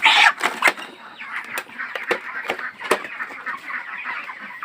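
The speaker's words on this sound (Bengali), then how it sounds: "এই যে একটা মোরগ আছে, অনেক সুন্দর দেখা যাচ্ছে" A rooster raised for meat gives a loud squawk at the start, followed by several short clucks and rustling scuffles. The sounds are close and uneven, with no speech.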